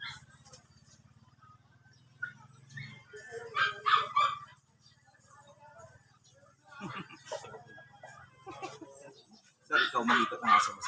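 Chow chow dogs, one blue and one black, bark in short bursts at a stud session on the street, the barks fairly distant and faint against a low hum while a few people talk nearby.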